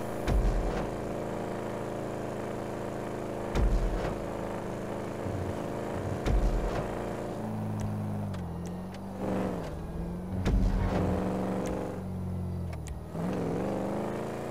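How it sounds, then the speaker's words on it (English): A car engine revs and accelerates repeatedly in GTA 5 Online, rising and falling in pitch under steady road noise, with several thumps and gear-change surges spread across the drive. "Just step on the gas, just keep driving."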